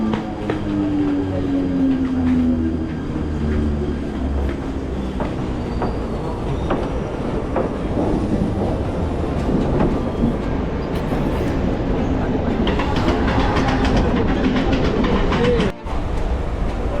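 A Mumbai local train runs along the rails between Sion and Dadar, giving a steady loud rumble with faint clatter and a brief wheel squeal near the start, all heard from inside the carriage.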